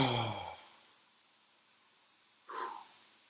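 A person draws a deep breath and releases it in a long, close sigh that fades out, followed after a quiet pause by a second short exhale.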